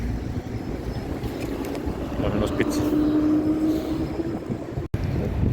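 Strong hurricane-force wind on an outdoor November walk roars as a steady, broadband rumble buffeting the microphone, with someone speaking over it throughout.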